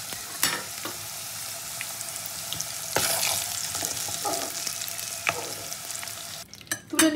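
Potatoes fry in hot oil in a pan, giving a steady sizzle broken by sharp clacks and scrapes as they are stirred, with a busier burst of stirring near the end.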